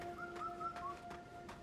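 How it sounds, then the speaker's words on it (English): A bird calls in the video game Wuchang: Fallen Feathers, a few soft repeated cooing notes over steady ambient tones, faint and somewhat distant, with no talk. "I hear a bird up there."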